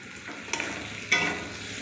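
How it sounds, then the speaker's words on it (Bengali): Boiled, cut potatoes go into a frying shrimp curry with green chilli, a constant sizzle marked by three sharp spatula scrapes and knocks, close and clear. "এবার সিদ্ধ করা আলুগুলো দিয়ে দিচ্ছি কেটে রাখা।"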